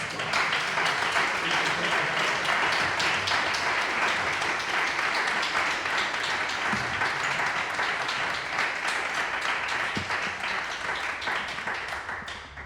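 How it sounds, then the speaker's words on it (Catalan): Sustained applause from a concert audience at a closing recital, a dense, steady wash of many hands clapping that holds evenly and then fades slightly at the end, with no voices over it. "Per favor, un aplaudiment"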